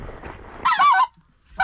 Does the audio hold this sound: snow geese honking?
yes